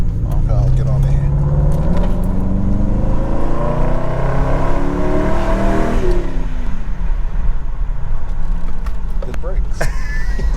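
A 2003 Mercury Grand Marquis drives along with a low exhaust drone that climbs and then eases off, heard from inside the car with someone talking over it.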